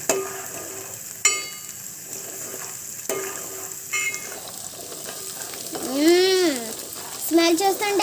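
Ginger garlic paste fries in a pan with salt, chili powder and turmeric, a steady low sizzle broken by stirring scrapes; people talk over it.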